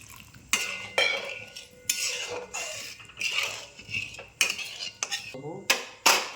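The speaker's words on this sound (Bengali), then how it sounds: "মশলাটা আস্তে আস্তে কষিছি" Masala of spices cooked in oil is stirred in a pan, a spoon scraping and clanking against the metal in repeated bursts of a few seconds each, close and fairly loud, with only a faint background sizzle.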